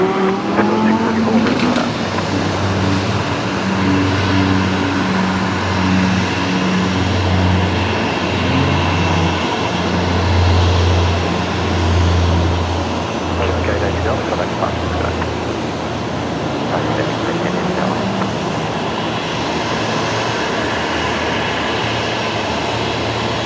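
A Link Airways Saab 340 turboprop heads out at Brisbane Airport with a sustained droning engine hum nearby that rises and shifts in pitch as it moves off, and voices talk over it.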